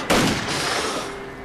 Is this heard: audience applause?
no